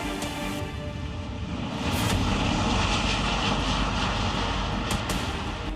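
US reconnaissance aircraft near Taiwan, a sustained loud engine drone with a steady low rumble that swells slightly midway, continuous throughout with no voices.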